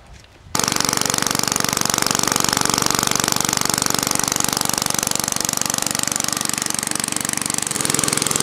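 A 1950s Toro Sportlawn power reel mower engine, running with no muffler, bursts to life after a brief quiet moment and then roars loud and close with a rapid, harsh, machine-gun-like exhaust chatter.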